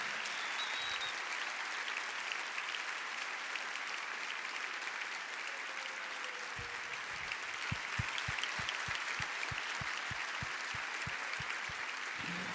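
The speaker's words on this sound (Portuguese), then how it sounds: "Vamos aplaudir forte, gente, por favor." A church congregation applauds loudly through the whole stretch, dense steady clapping from a large crowd, with a rhythmic beat of clapped time emerging in the second half.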